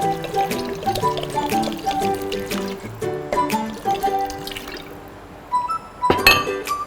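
Water pours from a bottle into a pot for a chicken casserole, about half a bottle, with glassy clinks and a liquid trickle amid ringing tonal notes, ending in a louder splash.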